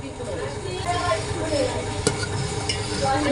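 Milk for payesh is stirred continuously in a pot, a steady scraping swish with soft bubbling and occasional light clinks of the spoon against the metal.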